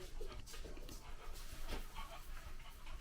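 A dog panting close by in a home, quick rhythmic breaths running steadily through the whole stretch with faint room noise behind.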